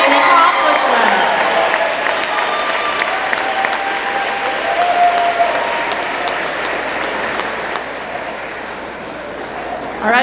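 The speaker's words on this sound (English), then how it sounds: "Let's please give those students one more round of applause" An audience at an eighth grade awards ceremony gives students a sustained round of applause, dense close clapping that swells at first then slowly thins toward the end, with faint voices mixed in.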